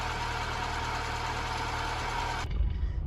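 Austin Allegro engine idling at full operating temperature, a steady close mid-pitched hum with a faint regular knock, running alone until it cuts abruptly near the end, leaving low rumbles.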